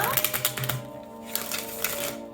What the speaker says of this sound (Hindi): शफल कर लेते हैं कार्ड्स को ऑप्शन 2 के लिए